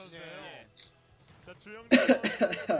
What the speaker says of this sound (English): I keep sneezing and coughing and crap